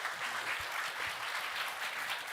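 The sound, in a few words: church congregation applauding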